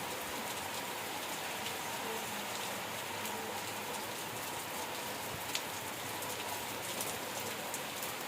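Heavy rain from Cyclone Remal pours down onto a balcony in Pathar Pratima, Sundarbans, a dense, steady patter of drops hitting the surface without a break and with no voices.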